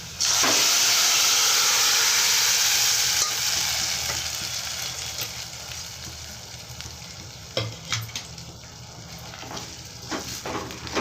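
Dal hits a sizzling tempering with a loud burst of hissing steam that gradually settles into softer bubbling, broken by a few spoon scrapes and clanks from stirring.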